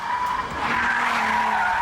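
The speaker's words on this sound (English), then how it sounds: "the growl of that V6 under the bonnet" VW Golf R32 with its V6 driven hard around a track, a short steady engine growl with a whining high tone, heard alone.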